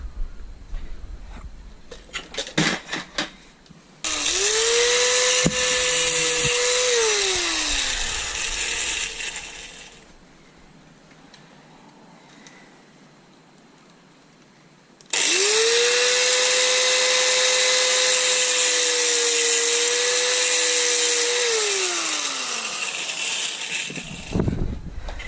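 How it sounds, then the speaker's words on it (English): An angle grinder cuts through a metal headlight mount plate from a Yamaha XVS650 motorcycle, with two long, loud whining cuts whose pitch dips as the disc bites. A quieter pause falls between them, and clicks and rattles come before and after. "I'm just going to use the angle grinder to cut those off."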